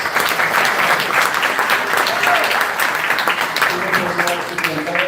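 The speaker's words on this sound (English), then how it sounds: "Round of applause." A crowd at a live event in Brooklyn applauds, dense and loud, for about five seconds without pause. Voices and cheers mix in toward the end.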